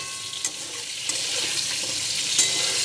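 Pointed gourd (parwal) roasts in a covered pan over low heat with a soft, hissing sizzle and a few faint clicks of a utensil.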